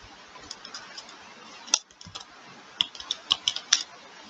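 Keys tapped on a computer keyboard while a bank name is entered into finance software, giving sparse, irregular clicks that cluster into a quicker run toward the end, close and fairly quiet with no voices.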